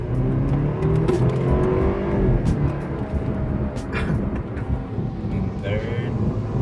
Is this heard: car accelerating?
yes